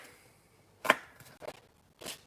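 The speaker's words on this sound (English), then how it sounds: "I'm almost done chopping up these vegetables" Knife chops vegetables on a board in a few sharp, separate strikes: one loud hit, then softer irregular cuts, close and otherwise quiet.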